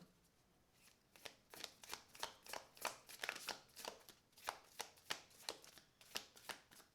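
A deck of tarot cards being shuffled by hand, a quiet, close series of crisp riffling bursts in a fairly regular rhythm, about a dozen in a row, with no voices.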